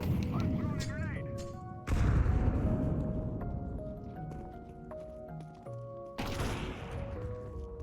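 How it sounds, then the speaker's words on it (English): A grenade bursts in an NES video game, two loud noisy blasts a few seconds apart cutting across a bouncy chiptune melody, with a voice talking between them. "I'm throwing a grenade."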